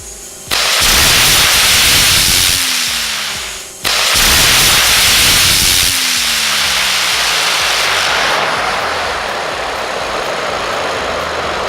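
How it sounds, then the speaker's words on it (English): Rockets firing on an iron fidget spinner, a loud, roaring blast of hissing thrust that cuts briefly, reignites and keeps roaring steadily with a whirring undertone. "Let's put some more rockets in it and try again."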